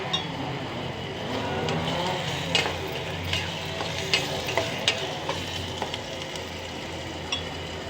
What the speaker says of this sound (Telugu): మగ్గుతుంది టమాటా చూడండి